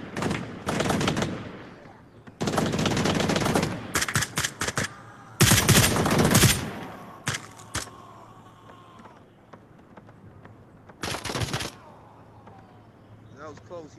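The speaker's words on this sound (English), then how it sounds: "He almost shot me." Gunfire in the VR shooter game Onward: loud bursts of automatic rifle fire and sharp single shots in several clusters, close and harsh, with quieter gaps and some background talk between volleys.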